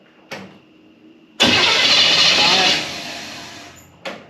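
A Chevelle engine with an Edelbrock carb cranks, catches briefly and roars for about a second before fading out, with a short click before it and a sharp sound at the end.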